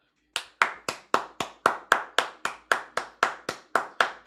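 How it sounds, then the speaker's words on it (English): Two hands clap alone in a steady, even rhythm, about sixteen sharp claps in quick succession, close and fairly loud. "I actually don't even need to clap."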